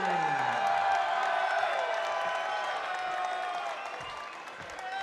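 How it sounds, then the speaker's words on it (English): Loud, sustained crowd ovation fills an arena at a Chosen Few Fighting Championships mixed martial arts event as featherweight champion Alex Gilpin is introduced, with broad cheering and applause that slowly eases toward the end. "Thundering ovation from the crowd here"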